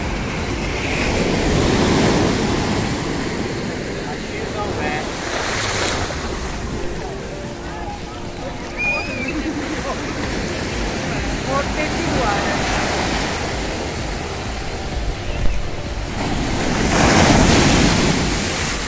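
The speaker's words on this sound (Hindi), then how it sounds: "बहुत ही सुंदर, हल्की फुल्की लहरें आ रही हैं" Gentle ocean waves wash onto the shore at Patong Beach, Thailand, in slow swells under steady wind noise, with faint voices now and then.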